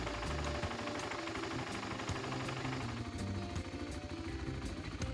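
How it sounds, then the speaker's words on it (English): BMW F650CS motorcycle engine idling after an oil change, a steady, low, even mechanical chug with rapid ticking pulses, heard close and alone. "It needs to idle for about 30 seconds to recirculate the oil into the engine block"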